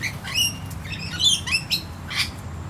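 Parrots call and sing in the morning, a series of bright squawks and whistled chirps rising over a low, steady background hum, fairly close with no one talking.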